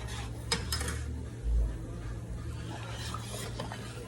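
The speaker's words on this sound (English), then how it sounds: "just stir it in, mix it well" Soup being stirred in a cooking pot over high heat, Cambodian noodle soup with minced fish: soft scraping and clinking of a utensil against the pot under a steady low hum, quiet and close.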